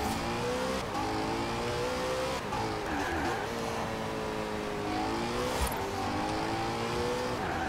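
A Lamborghini or Ferrari racing car in Forza Horizon 4 screams along at top speed, its engine note climbing and dropping through gear shifts with tire noise beneath, loud and continuous throughout.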